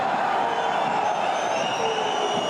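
Rugby stadium crowd at a Bayonne versus Clermont Top 14 match, a steady dense roar of many voices sounding displeased, continuous and fairly loud throughout without a distinct peak.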